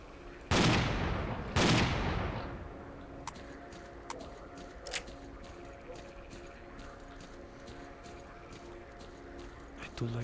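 A shotgun fires twice in a video game, two loud close blasts about a second apart, each trailing off into a decaying rumble, followed by quieter background game noise and scattered faint clicks.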